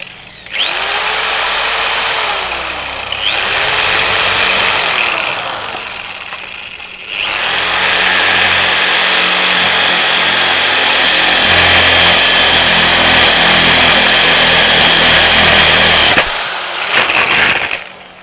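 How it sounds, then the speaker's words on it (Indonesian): A power drill with a 20 mm spade bit bores into plywood in loud, sustained bursts, winding up and down between runs with a brief pause midway. "mengebor kayu dengan mata bor kipas ya"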